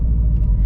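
Deep, steady engine rumble from a Subaru STi being driven, a constant close low drone with no talk over it.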